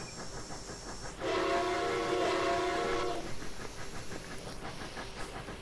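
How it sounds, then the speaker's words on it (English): A steam locomotive whistle on an AT&SF Northern in Train Simulator Classic blows one loud sustained blast of about two seconds, rich and layered, over steady rolling train noise that continues after it stops. "You should be able to hear this whistle a long ways away."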